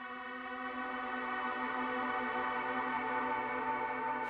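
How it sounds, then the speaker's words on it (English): A Line 6 HX particle reverb paired with a pitch delay makes a steady, shimmering drone pad of layered sustained tones that holds evenly for the whole stretch with no talking. "It's the particle reverb, here combined with a pitch delay in case I would need some drone pads somewhere."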